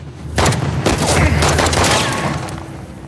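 Dense burst of gunfire from the game Uncharted: The Lost Legacy, loud and close, with rapid overlapping shots and booming impacts that thin out toward the end.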